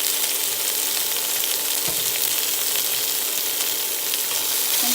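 Fish-fry ingredients sautéing in a pan after a squirt of ketchup, giving a dense, even sizzle that holds steady and close throughout, with one faint knock and no talking.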